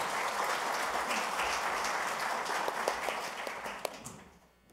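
Audience applause at a Korean self-sufficiency policy forum as an association president is welcomed to the stage, a dense burst of clapping with a few sharper claps that tapers off.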